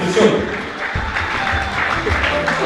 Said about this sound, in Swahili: Tutambue kwa makofi tafadhali kumbi